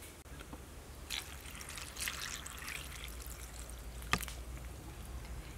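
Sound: pouring water to soak dumpling ingredients

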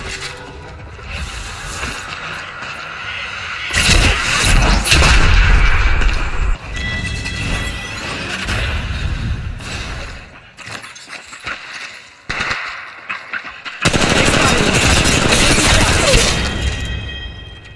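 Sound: gunfire in Apex Legends Mobile video game

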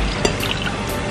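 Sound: pouring remaining 200 ml water into blender

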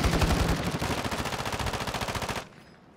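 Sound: minigun firing in a video game

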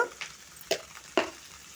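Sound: food frying in a pan

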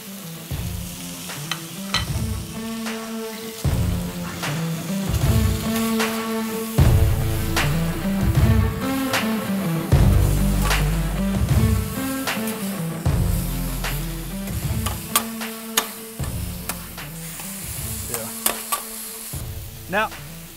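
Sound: frying in oil for Philly cheesesteak

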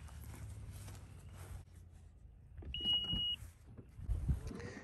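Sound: loud beep from a 2020 Honda Passport Elite

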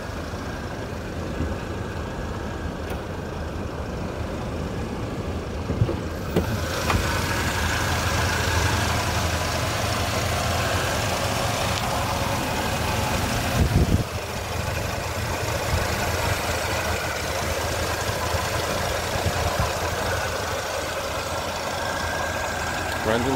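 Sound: 1981 Cadillac Seville engine idling

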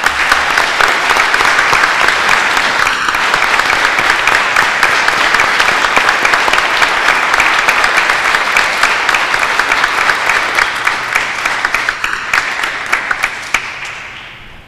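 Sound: congregation applause at an ordination

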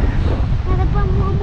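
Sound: strong wind at the sea

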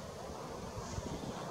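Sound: wind

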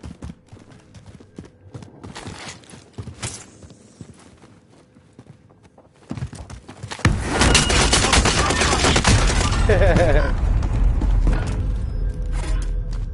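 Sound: gunfire in a first-person shooter video game

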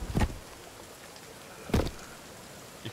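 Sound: rain falling in video game Sons of the Forest

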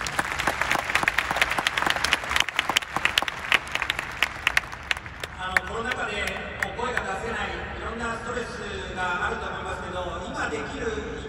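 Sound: stadium crowd applause

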